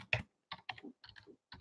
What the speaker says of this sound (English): While Dad's typing,